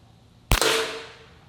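A single sharp gunshot from a hundred-year-old .22 short rifle, close and loud, with a short decaying ring afterward.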